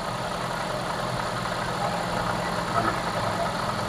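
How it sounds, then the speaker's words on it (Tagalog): A ninth-generation Toyota Corolla Altis engine idles steadily, a low even hum and rumble held close at moderate level with no change in pace, no talking heard. "Kasi naka-andar na yung makina."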